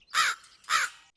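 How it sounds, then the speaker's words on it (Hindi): A cartoon crow in a jungle setting caws twice, two loud harsh calls close together and clear, with silence between them and no talk. "ड्रीमलैंड जंगल में रॉकी नाम का एक कौवा रहता था"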